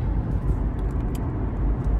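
Steady low road rumble from inside a car driving on the road, constant engine and tire noise with no clear voices.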